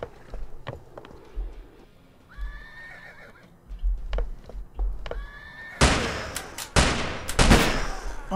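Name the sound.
horse neighing in a video game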